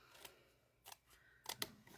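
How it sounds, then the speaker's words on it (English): A few quick snips of small scissors cutting paper, close and crisp, in short bursts with quiet pauses between. "I'm just going to grab my little scissors."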